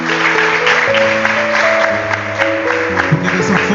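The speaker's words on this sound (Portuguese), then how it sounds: "Eu quero um aplauso ao Senhor por essa palavra" A church congregation breaks into sustained applause during a service, a dense wash of clapping with steady musical tones beneath it throughout.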